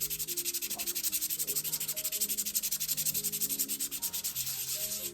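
Brake pads from a VanMoof S3/X3 e-bike being rubbed on sandpaper laid on a flat surface, giving a steady, close, rhythmic scratchy rasp of quick back-and-forth strokes with no talking.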